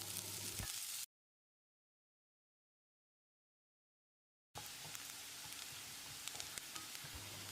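Finely chopped onions sautéing in ghee with garlic, a soft steady sizzle and crackle that runs briefly, drops to complete silence for several seconds, then returns at low level.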